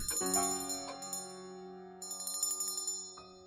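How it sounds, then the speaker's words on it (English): A small hand bell rings in a dark psychological thriller audio drama, bright tinkling strikes repeating in two clear bursts with lingering ringing tones between, loud and close with no voices. "Susan's little bell rings and rings"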